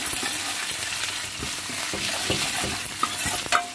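Onions go into hot oil already holding chilli, garlic and curry leaves for a festive chickpea palya. The close, busy sizzle comes with rapid crackles and stirring scrapes, and the pops sharpen near the end.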